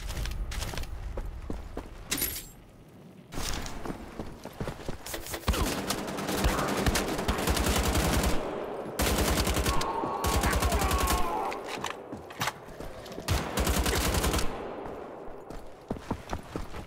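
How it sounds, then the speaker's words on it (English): Rapid bursts of gunfire from Wolfenstein: The Old Blood, a first-person shooter, with sustained volleys and short pauses, loud and dense over about seventeen seconds, with faint mechanical clanks and footsteps between the volleys. "I guess you could just keep shooting."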